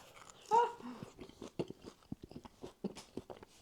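Someone chewing a garlic and onion pizza with a crunchy bottom and a thick onion topping, close-up crunching bites in an irregular rhythm, quiet apart from a louder bite near the start, with no talk.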